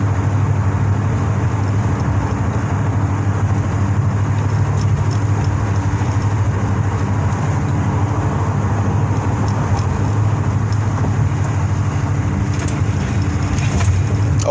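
Steady engine drone and road rumble heard from inside a moving car, loud and unbroken for the whole stretch with no talk.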